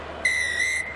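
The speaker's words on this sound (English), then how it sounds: "The whistle goes for half-time." A referee's whistle ends the first half of a 2007 rugby union match between New Zealand and Italy in Marseille, one sharp, steady blast just over half a second long, loud and clear with no talk over it.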